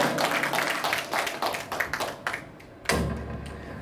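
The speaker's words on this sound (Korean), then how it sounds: "박수로 청해 듣겠습니다" A burst of scattered clapping from a small group at a Korean folk song (minyo) performance, uneven and brief, fading out before a sudden thump near the end.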